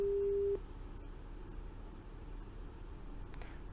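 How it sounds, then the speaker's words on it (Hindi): A telephone busy tone sounds on a disconnected call during a TV news debate, a steady tone lasting about half a second before cutting off into low background noise. "मुझे लग रहा है शायद आपका फोन डिस्कनेक्ट हुआ है"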